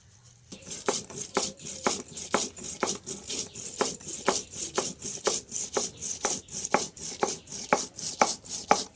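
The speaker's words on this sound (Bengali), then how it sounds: "এখন লঙ্কাগুলো বেটে নিচ্ছি" Green and red chillies with cumin being ground into a paste on a traditional grinding stone, a steady run of rhythmic scraping, rubbing strokes about twice a second, close and fairly loud, with no talking.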